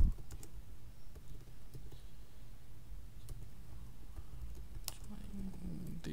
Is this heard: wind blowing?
no